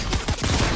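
Rapid burst of gunfire in the video game Fortnite, several loud shots packed closely together in under a second, with no talk over them.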